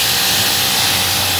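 A pressure washer sprays a vehicle during its first wash after a revival, a steady, loud, broadband hiss of water jet running continuously and close, with no talking.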